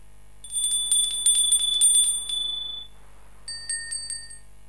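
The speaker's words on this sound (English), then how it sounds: "The bell invites me." A bright bell rings on stage during a school annual-function performance of Macbeth, sounding in quick clustered strokes, then pausing and ringing again in a shorter burst, fairly close and with no voices.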